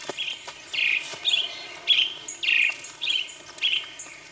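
A Brown-backed Solitaire calls loudly in a misty cloud forest, sending out a run of bright, fluty phrases at a steady rhythm, each about half a second apart, over a faint insect hum.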